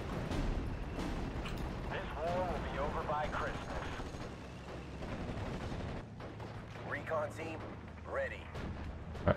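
Artillery counter-battery fire rumbles through a Steel Division: Normandy 44 battle, with repeated booming shots and distant blasts under game effects while someone talks over much of it.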